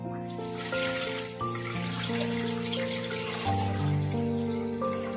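Water pours steadily into a pot holding chicken for Lahori sajji, a continuous splashing rush over a background of sustained tonal music.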